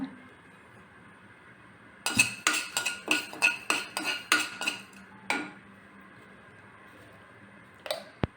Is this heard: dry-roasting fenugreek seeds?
yes